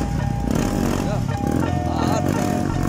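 A homemade tricycle with two motorcycle engines, one mounted on the side wheel with a sprocket, idles loud and close with a steady chugging putter, while people talk over it.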